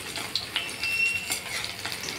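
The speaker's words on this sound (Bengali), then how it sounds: "যে একটা মাছ বাকি ছিল সেটাকে দিয়ে দেবো, দিয়ে ওটাও ভেজে নেব।" Fish fries in hot oil in a pan, giving a bright crackling sizzle with a few sharp pops and faint scrapes of a utensil, close and steady, no talking.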